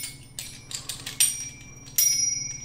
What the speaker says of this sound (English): these looks like a set of bells